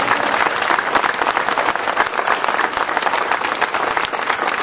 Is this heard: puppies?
no